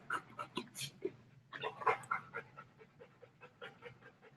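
An excited dog lets out a series of short, close yips and barks mixed with panting, in quick irregular bursts over about four seconds.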